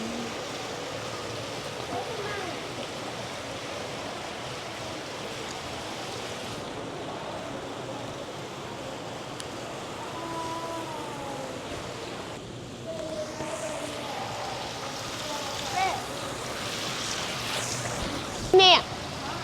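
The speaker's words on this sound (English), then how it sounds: "The water fountain." A water fountain in a shopping mall splashes and rushes as a continuous, moderately loud wash, while indistinct voices and brief bumps come up in the background.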